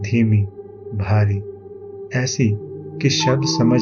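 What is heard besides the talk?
No everyday noises stand out.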